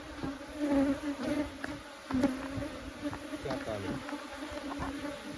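Honey bees buzz steadily around honey frames during an outdoor harvest in a remote spot, a close, continuous hum with a voice talking over it.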